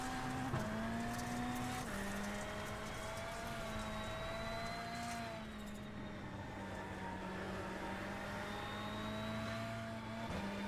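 Race car engine in Automobilista 2, a Gol Classic B at Cascavel, droning steadily up close with sharp pitch drops at the downshifts, continuous and loud with no talk over it.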